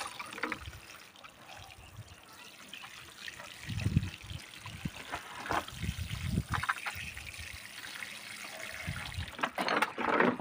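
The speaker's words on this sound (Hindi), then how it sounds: "हम अच्छे से पानी दे देंगे इस पौधे को।" Water pours and trickles onto the soil of a potted pomegranate plant in uneven bursts, splashing and gurgling up close, with a few louder gushes toward the end.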